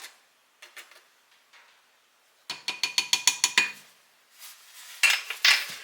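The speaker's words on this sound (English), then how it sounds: "And we're going to get this all mixed up." A utensil stirring flour into blueberry cobbler batter in a bowl, heard as close, sharp rhythmic clinks and scrapes in quick bursts with short pauses between them.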